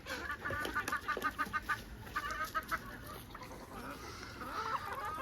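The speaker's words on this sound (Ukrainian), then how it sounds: "У мене в господарстві видно кури, качки, індики" Several chickens cluck in quick bursts nearby in a household yard that also keeps ducks and turkeys, with duck-like and goose-like calls mixed in, fading toward a quieter stretch near the end.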